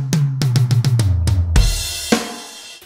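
A drum kit plays a quick fill: six rapid tom hits stepping downward in pitch, then a loud crash with a kick that rings out, followed by another sharp accent. Played alone, close and punchy.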